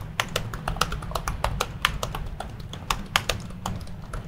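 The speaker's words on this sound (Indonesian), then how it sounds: "Untuk tombol dari keyboardnya ini sama aja dengan Hype yang versi sebelumnya." Rapid typing on an Axioo Hype 14-inch laptop keyboard, a dense run of crisp, close key clicks at an uneven rhythm, heard alone over a soft background hum.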